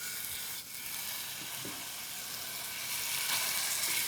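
Meat browns in hot oil in a pan on the stovetop for a Mexican fiesta casserole, a steady close sizzle and crackle that grows slightly louder, with faint stirring scrapes and no talking.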